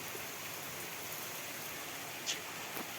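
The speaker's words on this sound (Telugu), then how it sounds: "వర్షం చూస్తే ఈ రకంగా కురుతుంది" Heavy rain falls as an even, unbroken hiss that sounds fairly faint and distant, with a couple of small drip-like ticks and no speech.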